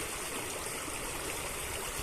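A stream of sewage water, carrying factory waste, flows into the Kaveri river with a steady, dense rushing wash that continues without break, moderately quiet and with no voices.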